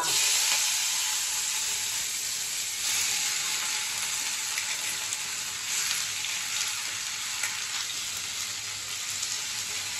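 Green chillies fry in hot oil in a home kitchen, giving a steady, close sizzle with a faint crackle running underneath throughout.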